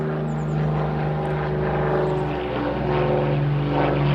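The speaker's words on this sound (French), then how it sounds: "Un avion, je ne sais pas si on le voit." A propeller airplane drones steadily overhead, a loud continuous engine hum with a buzzing tone that holds throughout without any voices.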